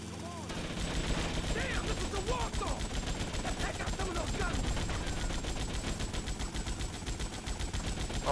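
Rapid gunfire from the video game GTA Vice City, dense repeated shots rattling steadily for several seconds at a fairly even loudness, with someone talking over it.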